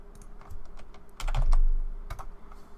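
Computer keyboard keys tapped in short, uneven bursts of close clicks, with a denser cluster of keystrokes near the middle, while folders are being renamed.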